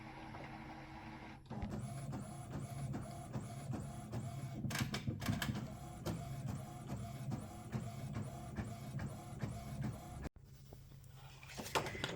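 An inkjet-style printer runs a sheet of stickers, its print head shuttling back and forth in steady repeated passes with whirring and clicks, close and fairly quiet, ending with a brief pause and paper feed.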